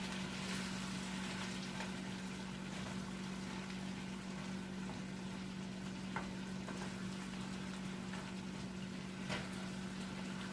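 Cabbage steaming and cooking in an open pan with a quarter cup of water on medium heat gives a soft, steady sizzle and bubbling hiss, with a constant low hum and a few faint clicks.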